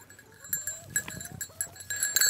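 Sheep on a farm, with a few short bleats and thin tonal calls over a low farmyard rumble, moderately close and irregular through the clip.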